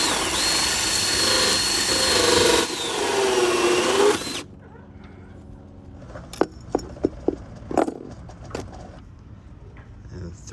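A power drill drives screws to fasten a part of a marine diesel fuel system with a polishing loop. A loud, steady whine runs for about four seconds, then stops, leaving quieter clicks and handling knocks.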